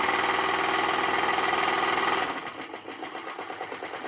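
A sewing machine, recently repaired and fitted with a Polish motor and rheostat speed control, stitches fabric with a loud steady whir that drops into a quieter, rhythmic run of close, regular stitches.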